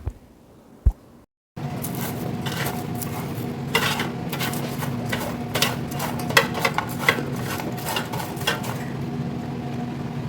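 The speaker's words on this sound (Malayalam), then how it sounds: "നമ്മളിത് ഇളക്കി കൊടുക്കുമ്പോൾ നല്ല ഫ്രൈ ആയ സൗണ്ട് കേൾക്കാൻ പറ്റും" Shrimp being stirred in an air fryer basket, a steady hum running underneath while metal clinks and scraping knocks come irregularly and close, after a brief quiet start.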